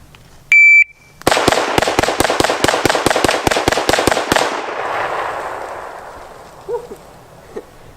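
An IWI Tavor rifle fires a rapid string of about thirteen loud, sharp shots at close-range targets. The reports come in a quick, even rhythm after a brief electronic beep, then fade into a ringing echo and quiet.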